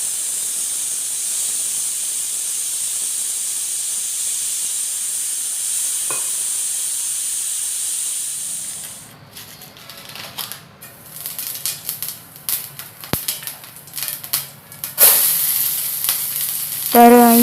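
Tempering (phodni) sizzles in hot oil for a vegetable curry: a steady, loud frying hiss, then a gap and busier crackling with clattering stirring and scraping toward the end, with no talk.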